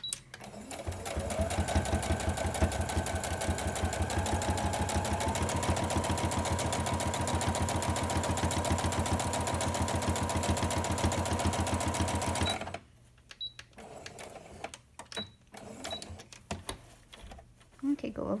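A sewing machine stitches steadily over the pleats of a fabric face mask, a fast, even mechanical whir and needle patter lasting about twelve seconds before stopping, followed by quieter handling clicks and fabric shuffling.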